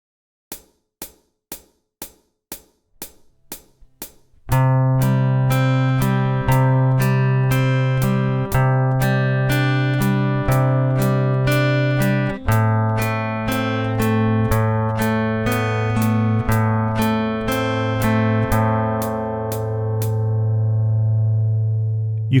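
A fingerstyle guitar tune opens with a row of evenly spaced clicks counting in a two-bar introduction, then bright plucked notes ring out over sustained bass lines at a steady, moderate tempo.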